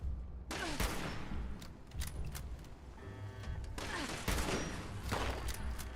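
Dense gunfire in Fallout 76, with rapid overlapping shots and bursts crackling steadily throughout, close and loud.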